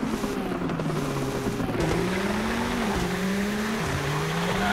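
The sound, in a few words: diecast Toyota Supra toy cars racing down a track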